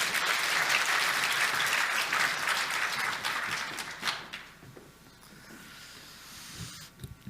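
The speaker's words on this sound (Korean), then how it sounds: "목사님 힘내시라고 박수로 목사님 모시겠습니다" A church congregation at a dawn prayer service claps to welcome the pastor to the pulpit, with brisk, full applause that fades out after about four seconds, leaving a quiet room.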